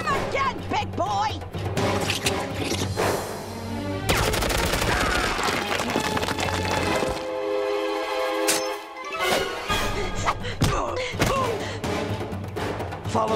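Gunfire and heavy impacts in an animated Tarzan fight scene, repeated shots with crashes and thuds, loud and busy, with characters shouting over the action.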